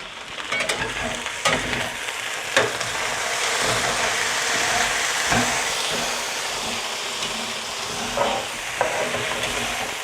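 Hash browns fry in a hot pan with a steady, loud sizzle throughout, broken by a few scraping stirs as the potatoes are turned, close up with no talking.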